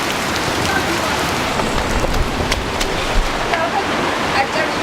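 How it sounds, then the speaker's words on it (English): Torrential downpour in Ethiopia, heavy rain pounding surfaces outside near a hut, a dense continuous roar with scattered louder drops and splashes, close and loud. "A torrential downpour is happening outside"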